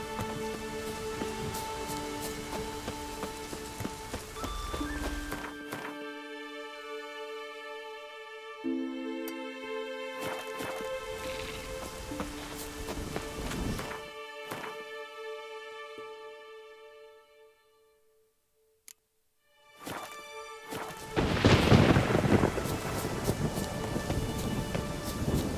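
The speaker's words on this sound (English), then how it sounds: "Oh, raining again." Steady rain with rumbling thunder in the video game The Witcher 3: Wild Hunt, a continuous wet hiss with heavy low rolls, briefly dropping out before a louder downpour returns.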